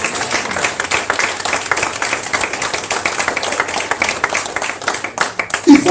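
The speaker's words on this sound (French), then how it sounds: "Applaudissez Jésus, alléluia." A church congregation claps in praise of Jesus at a French-language service, a steady, dense patter of many hands running throughout under a loud, reverberant room and voices.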